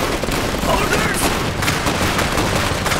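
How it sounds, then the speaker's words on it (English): Sustained gunfire and fusillade crackle from the Iron Harvest real-time strategy game, a loud dense volley of shots running steadily through the whole stretch. "They're shooting at us!"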